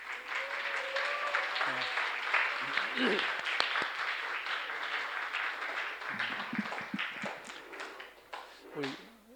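Church congregation applauding during a Sunday service to welcome a guest, a soft, scattered clapping spread across the room with a voice speaking over it for much of the time.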